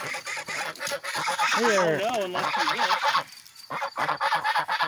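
Geese honk loudly and repeatedly in a wavering chorus near a large hole in an open outdoor setting, while a person speaks briefly over the calls.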